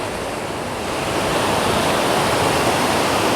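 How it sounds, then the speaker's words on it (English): River water rushing steadily through a Costa Rican jungle in the dry season, a loud, close, continuous broadband roar with no voices over it. "but again, the river's flowing"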